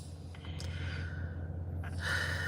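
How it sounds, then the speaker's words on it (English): A baby snores nearby, giving soft snorting, breathy intakes over a steady low hum, with one fuller breath toward the end. "I know y'all hear my baby back here. He's snoring."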